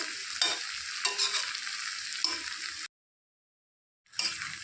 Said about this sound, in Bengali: এক মিনিট দুই এক থেকে দু মিনিটের মতো ভালো করে কষিয়ে নেব মাংসটা